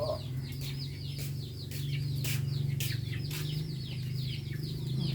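Chickens cluck and chatter in a steady, busy chorus from a flock of farm fowl, with overlapping calls continuing throughout over a low constant hum.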